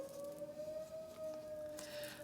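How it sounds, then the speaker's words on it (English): A storm siren under test sounds faintly in the distance as a steady, slightly wavering tone. "Oh, they're testing storm sirens today."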